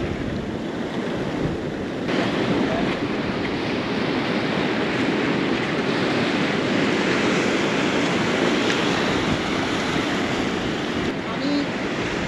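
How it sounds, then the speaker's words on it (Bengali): Sea water washes and churns between large rocks on the shore at Cox's Bazar, a loud, continuous surging wash mixed with wind buffeting the microphone. "এখানে ফাঁকে ফাঁকে পানি চলে আসতেছে।"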